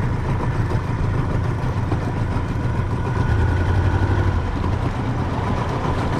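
A Tohatsu 25 outboard boat motor idles on a river, a steady low rumble with a vibrating hum that runs close and loud through the whole stretch, with no talk over it.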